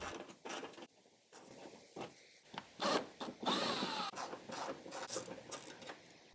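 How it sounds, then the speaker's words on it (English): A tool works T30 screws out of the underside of a Porsche 997/987 bumper, giving close clicking, ratcheting and scraping sounds in short irregular bursts with brief pauses. "Then on each side of the bumper, remove the T30 screws on the underside."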